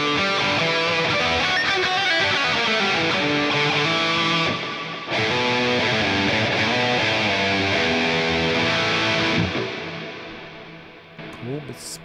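A spacious, heavily reverberant electric guitar through a PolyChrome DSP McRocklin Suite space reverb, playing sustained chords, with long washy tails ringing out and trailing off at the end.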